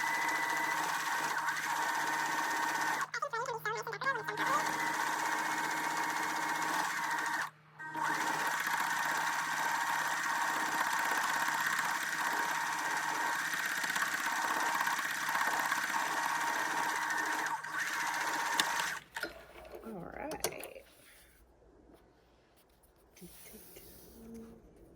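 A sewing machine stitches a line of thread along a bag strap in a loud, even whir with two brief pauses. It stops near the end, leaving a few faint handling sounds.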